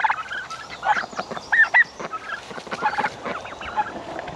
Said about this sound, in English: Them turkeys.